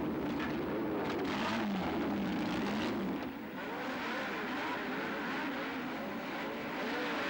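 Engines of 1969 Tasman Series race cars, Lotus 49 and Ferrari among them, roar away from the start at Warwick Farm in the rain, a dense rising blare of several cars that eases slightly partway through.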